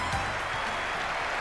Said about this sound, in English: O'Leary given a magnificent reception by the crowd